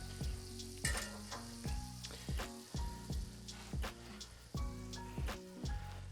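Butter sizzles quietly in a skillet holding leftover beef drippings, in short pulsing bursts that rise and fall about once a second.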